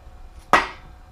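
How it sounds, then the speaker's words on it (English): A single sharp, close tap seats an engine part over dowels onto the block of a 2006 Jeep Grand Cherokee Laredo 3.7L engine during a rebuild, one crisp knock in a quiet workshop. "sometimes you have to tap it down over the dowels until it meets with the surface on the bottom of the block"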